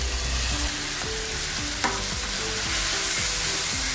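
Marinated paneer stir-frying in a pan with cumin seeds and two green chilies over high flame, a steady close sizzle with repeated scraping strokes of a spatula, no voices.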